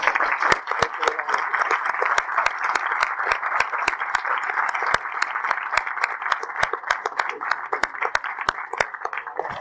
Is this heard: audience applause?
yes